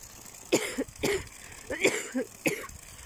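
A run of four or five harsh coughs in quick succession, close and fairly loud, with short pauses between bursts.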